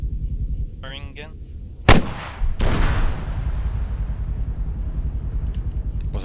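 A weapon fires at a vehicle in a military video game: one sharp, loud shot crack followed moments later by a second heavy blast, both ringing over a constant low engine rumble.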